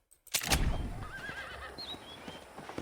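A war horse lets out a loud, wavering whinny that trails off in the video game Red Dead Redemption, with faint hoof clops and thuds around it.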